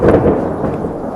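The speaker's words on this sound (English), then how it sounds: "There's some thunder." Thunder rolls from a cold front moving through during a rainstorm. A steady, heavy rumble holds for the whole brief moment at a fairly loud level, with no speech.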